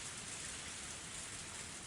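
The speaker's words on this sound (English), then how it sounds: "Even in this torrential downpour, Reina was still apologizing." Torrential rain pours down in a dense, unbroken hiss for the whole clip, steady and enveloping with no other sounds.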